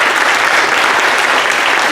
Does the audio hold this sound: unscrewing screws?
no